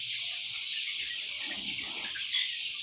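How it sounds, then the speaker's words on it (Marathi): Chickens about 25 days old cluck and chatter continuously in a poultry shed in cold winter weather, a dense, steady flock noise with no talk. "हे आमचे कोंबड्याचे शेड आहे"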